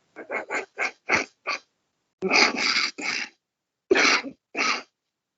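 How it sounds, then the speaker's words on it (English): A burst of rapid coughs, then a few heavier, raspy hacks with brief pauses between them, close and alone. "Now you started me coughing."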